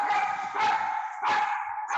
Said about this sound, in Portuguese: A cachorra fica doida com a campainha aqui.